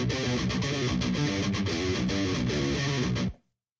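A clean DI guitar track from a metal mix plays alone as a steady, dense stream of rapid picked notes for about three seconds, then stops abruptly.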